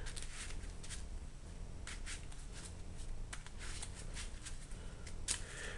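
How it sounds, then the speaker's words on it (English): A Yu-Gi-Oh card deck is shuffled by hand, a steady, close, papery riffling and scraping that runs continuously with no voices. "Okay, so shuffled that back up."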